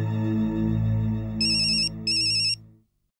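An electronic phone ringtone plays two short trilling bursts over a held tone, then cuts off into silence.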